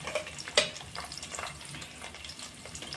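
Finely sliced onion and green chilli pieces fry in a pan with a steady, soft crackling sizzle, one sharp clatter of stirring near the start and lighter scrapes after.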